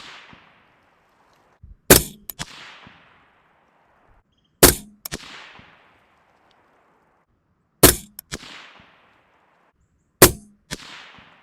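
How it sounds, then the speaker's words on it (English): Four sharp AR rifle shots fired downrange at a target on a zero range, spaced a few seconds apart, each a loud crack with a quick echoing decay and a fainter steel clang after, with near silence between. "now that we've fired all the rounds in the video"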